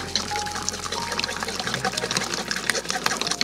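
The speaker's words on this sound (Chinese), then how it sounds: "加水稀释一下，就像冲藕粉一样，倒入开水。" Boiling water pours into homemade yam starch to thin it, a steady splashing trickle with a low pump-like hum underneath and soft talk in the background.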